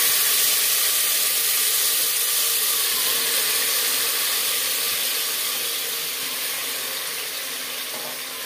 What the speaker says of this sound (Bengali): পরিমাণ মতো সরষের তেল গরম করে নিয়েছি। এবার দিয়ে দেব ম্যারিনেট করে রাখা মাংস।